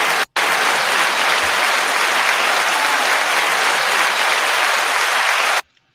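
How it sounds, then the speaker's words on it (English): A studio audience breaks into loud, dense applause that holds steady for several seconds and then stops abruptly. "You didn't know you were getting applause into it today, did you?"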